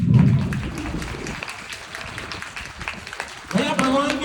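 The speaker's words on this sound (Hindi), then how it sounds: "तालियों की गड़गड़ाहट से सम्मान चाहिए।" Scattered audience clapping at an open seminar on Akhnoor Road, fairly soft and uneven, with a louder burst at the start and again near the end amid crowd murmur.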